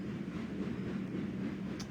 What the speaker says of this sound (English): I think this is another long train too. I think so. There's all freight trains today.